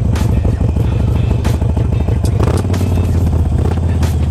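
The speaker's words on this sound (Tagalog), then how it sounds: "Ganda ng exhaust nito." A motorcycle's aftermarket exhaust idles and burbles loudly up close, a rapid throbbing rumble with a small rev partway through, no talking over it.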